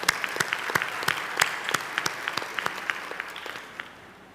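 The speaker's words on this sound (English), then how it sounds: "Give our choir a round of applause." Applause for a choir at a university graduation ceremony: a full crowd claps together, with scattered loud individual claps on top, before it tapers off.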